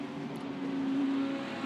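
A Ferrari race car drives downhill through standing water on a wet circuit. Its engine drones at a steady, moderately distant pitch with no other sounds.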